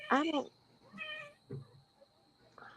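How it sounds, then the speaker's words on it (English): A cat gives a couple of clear meows close by, followed by a quieter trailing sound. "That was a cat."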